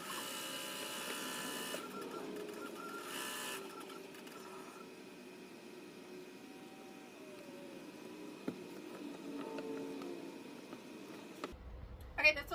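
An embroidery machine stitches an appliqué letter onto a shirt with a faint, steady mechanical whirring, broken by a few soft clicks and a brief knock toward the end.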